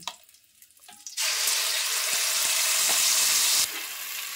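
A paste of tomato, green chili and onion hits hot oil with a sudden loud, steady sizzle that holds for a couple of seconds and then eases slightly, after a few quiet handling clicks.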